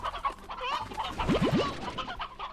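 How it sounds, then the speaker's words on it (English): Chickens in the video game Slime Rancher: a close flurry of clucking and squawking, with a quick run of rising clucks in the middle over a busy game background. "there's an awful lot of chickens kicking around here"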